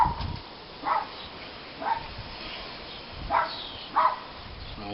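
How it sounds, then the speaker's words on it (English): A dog barks four times in separate short bursts, fairly distant and quiet over low background noise. "That's not my dog, Barbie."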